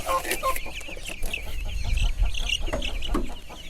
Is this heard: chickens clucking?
yes